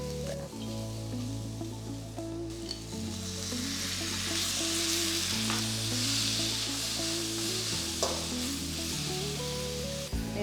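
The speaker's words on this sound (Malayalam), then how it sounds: "ഇതെല്ലാം ഒന്ന് ചെറുതായിട്ട് സോട്ടേ ചെയ്യുക." Vegetables sauté in a pan for Asian-style chicken noodles, giving a steady, close sizzling hiss that runs the whole time beneath prominent tonal background music.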